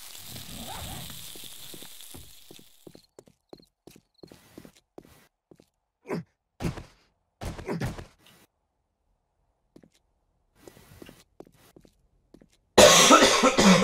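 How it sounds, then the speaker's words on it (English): Repeated coughing from a person streaming a live session of the game 7 Days to Die, a series of short sharp bursts spread over several seconds, close and fairly loud in an otherwise quiet room, with a louder noisy burst at the very end. "Sorry about the coughing again."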